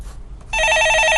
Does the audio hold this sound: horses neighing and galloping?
no